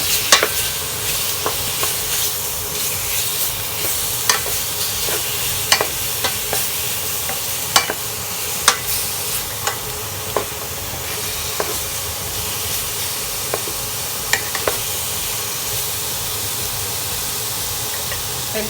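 Catfish pieces and eggplant stir-fried with curry paste in a hot pan give a constant sizzling hiss with regular sharp scrapes and taps of the spatula throughout; no one speaks.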